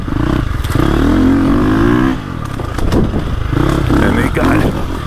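A four-stroke 2025 KTM 350XCF dirt bike rides a short woods loop, its engine revving up and down in close, loud surges with clattering, while a rider talks over the motor.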